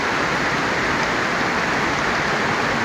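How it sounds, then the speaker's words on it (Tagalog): Heavy rain pours steadily beside a stream where squash is grown on a trellis, a dense, constant hiss filling the whole stretch with no talk. "Yan, lakas po naman ng ulan, no."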